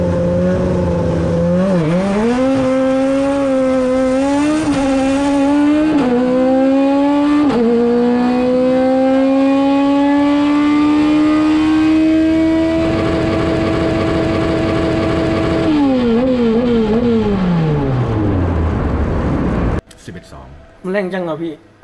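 A drag racing car on its first test run accelerates hard through a series of rising gear pulls, the engine note climbing and dropping at each shift, loud and close, before cutting off into crowd noise.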